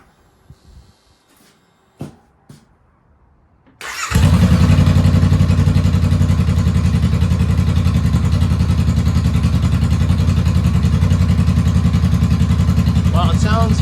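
A 2022 Honda Rebel with a Shorty GP aftermarket exhaust cranks after a few faint clicks, then fires into a loud, steady, throbbing idle that continues unbroken at close range.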